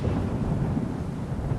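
A low, steady rumble of thunder rolls on without a break through the stormy Fallout 4 game world, dense and fairly loud, with no voices over it.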